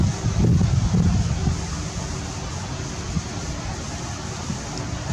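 Gusty outdoor wind buffets the microphone in a low, rumbling roar, strongest at the start and then easing into a steady, softer rush with no voices.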